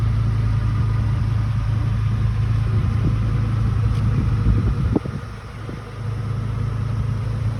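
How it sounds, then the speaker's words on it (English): A 2005 Ford F-350 Super Duty Lariat pickup sits idling with a steady, close low rumble, broken by a brief knock near the middle before it settles back into the even drone. "The vehicle is running."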